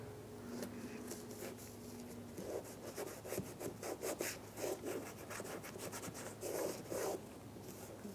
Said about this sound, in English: We're going to use an alcohol wipe. We're just going to wipe over in this area.